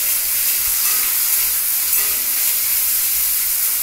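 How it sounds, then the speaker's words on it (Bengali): Potato pieces fry in hot oil with a steady, dense sizzle that holds close and even throughout, with no voices over it. "আলুটাকে আগে তেলে ভেজে নিচ্ছি"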